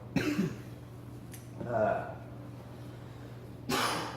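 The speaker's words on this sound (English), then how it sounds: "Sorry for my coughing." A person coughs and clears their throat a few times, short rough bursts separated by pauses, close to the microphone with a low hum underneath.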